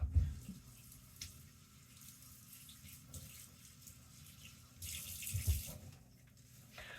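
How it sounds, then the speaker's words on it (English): A kitchen tap runs water over a bunch of cilantro being rinsed, a faint steady flow with a couple of louder splashing surges. "So I'm just going to give this a rinse and tear off about half of it and then chop it."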